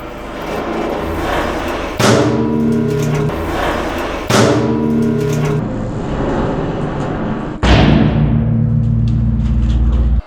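A hydraulic press crushes paper held under it, giving three loud, sudden thumping impacts spaced a few seconds apart, each followed by a heavy rumbling press sound, close and forceful.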